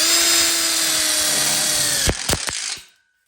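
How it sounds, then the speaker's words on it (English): Power drill driving a screw into an outdoor kitchen frame for a pizza oven: a loud, steady high whine that ends in a few sharp clicks and a final burst before stopping, close up. "We're going to lock in a screw."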